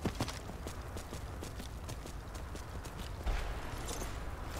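A horse gallops in the Skyrim video game, its hooves beating a quick, steady clip-clop rhythm over a constant ambient background for several seconds.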